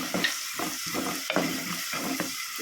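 Chopped onion, chilli and ginger sizzle in hot oil as a tempering for a Mangalore-style catfish curry, with a steady crackling fry and the scrape of stirring coming in short, rhythmic bursts.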